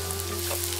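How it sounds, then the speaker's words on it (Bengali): Chopped ginger and garlic frying in a pan for chicken curry, giving a steady, close sizzle with a constant low hum underneath. "এবার একটু আদার কুচি দিয়ে দেব আর একটু রসুন কুচি দিয়ে দেব।"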